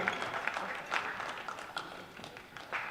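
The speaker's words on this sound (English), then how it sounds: "Big round of applause, ladies and gentlemen." Applause from the audience at a school basketball championship in an indoor arena rises and falls for the whole stretch. It sounds like scattered, moderately distant clapping from a large crowd.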